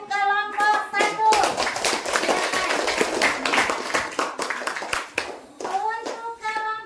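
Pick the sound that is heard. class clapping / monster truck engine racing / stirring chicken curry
class clapping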